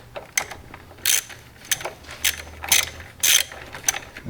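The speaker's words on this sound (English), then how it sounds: "You're gonna put it at your socket. It's already loose, and you start loosening it, and you're gonna take it off" A socket ratchet loosening a car battery bolt during a battery replacement gives a series of sharp, close clicking bursts in an uneven rhythm, each ratchet stroke heard clearly on its own with no talking.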